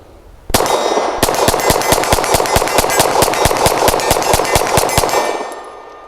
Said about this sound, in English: I'm going to ideally hit the steel, but really burn it down so we can watch this mag work